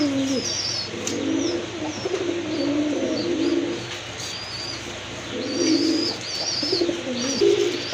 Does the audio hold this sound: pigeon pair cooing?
yes